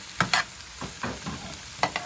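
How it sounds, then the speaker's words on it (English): Potatoes frying on a stovetop with onions, peppers and garlic: a low sizzle runs underneath while stirring scrapes come in short bursts, two close together at the start, others spread through the middle, then another pair near the end. "Here I have the potatoes cooking with the onions, peppers, and garlic"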